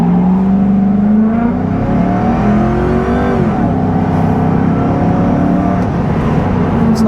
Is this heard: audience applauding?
no